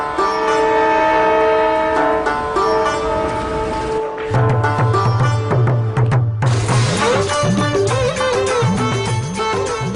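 Trains at NJP Junction on the Darjeeling Himalayan Railway: a long sustained train horn, then rhythmic wheel clatter and repeated squealing tones as the narrow gauge or intercity train moves, loud and close.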